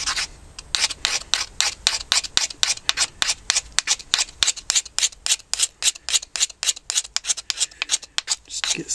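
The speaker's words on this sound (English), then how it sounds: "Using a blade just as a scraper." Blade drawn as a scraper across a carved wooden spoon, producing a rapid, even series of dry scratchy strokes, close and fairly loud with no talking.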